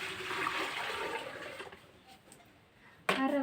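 Water pours steadily into a container, a rushing splash that gradually thins to a faint trickle before a voice abruptly cuts in at the end.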